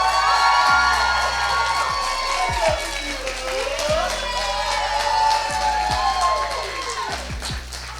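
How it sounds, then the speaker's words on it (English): A conference crowd at a modelling convention claps and cheers for a speaker being introduced, with whoops and shouts over steady applause and some talk underneath. "We put a round of applause for Fatima Irvin."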